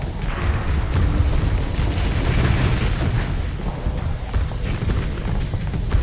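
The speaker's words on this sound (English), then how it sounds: "I love the massive missile volley" Dense, continuous rumbling explosions from a massive missile volley in the space combat game Starsector, including Hurricane MIRV missiles splitting into buckshot, a loud sustained roar with overlapping booms.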